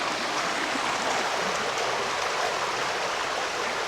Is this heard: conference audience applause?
no